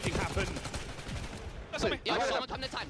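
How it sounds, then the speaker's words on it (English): Rapid bursts of automatic gunfire in a Call of Duty League esports match play loud and close in the mix, with a caster talking over the shots. "now a hail of gunfire from the LA Thieves"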